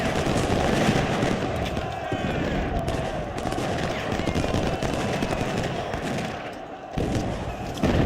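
Civil War artillery cannon fire in the strategy game Ultimate General: dense, continuous booming and rattling gunfire, a heavy sustained barrage with overlapping thuds and a brief dip near the end, with a voice talking over it.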